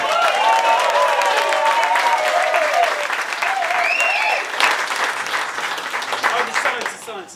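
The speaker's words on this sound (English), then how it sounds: "Can we have a round of applause for my glamorous assistant" An audience at a talk applauds a presenter's assistant, steady full clapping that carries on for several seconds with some voices and cheers mixed in, then tapers slightly at the end.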